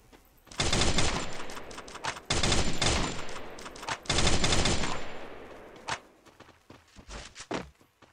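Bursts of automatic gunfire from Counter-Strike, with three long sustained volleys followed by shorter scattered shots and a few single cracks, loud and close with no voices.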